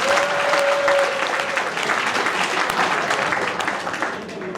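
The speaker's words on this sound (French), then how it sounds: "Applaudissez pour vous-même." Audience applause at an award ceremony in Kindia honoring a woman's leadership, a dense steady roar of many hands clapping throughout, loud and close, fading slightly at the end.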